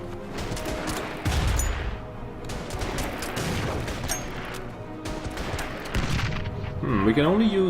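Tank gunfire in the Order of Battle war game on a Voronezh map: repeated booming shots and crashing bursts, the loudest near the start and toward the end, over a continuous rumbling battle background.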